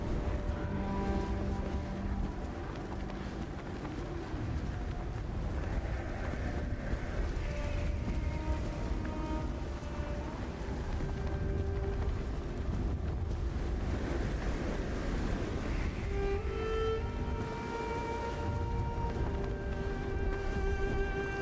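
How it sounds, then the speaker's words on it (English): Steady, loud wind blows continuously through a scene in the video game Sundered, with a constant whooshing gust layered under soft tonal background music and no voices. "Looks a little windy."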